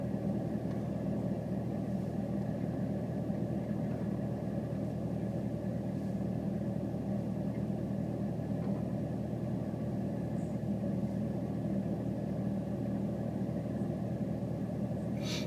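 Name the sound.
loud car engine running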